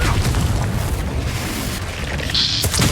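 A Confringo blasting spell explodes in Hogwarts Legacy, a loud, sustained roaring blast that fills the whole moment with dense rumble and crackle, with no speech over it.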